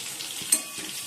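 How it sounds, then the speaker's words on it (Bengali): Pressure-boiled potatoes frying in a pan in a home kitchen, a continuous soft hiss and sizzle with a brief stir or clink partway through, close by and with no talking. "একটু ভেজে নিচ্ছি।"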